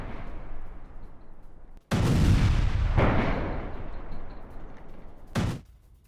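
Missile strike explosions on a large power station in Kyiv, heard as two heavy booming blasts with rolling, decaying rumble, followed by a shorter, sharper burst near the end against a dull background roar.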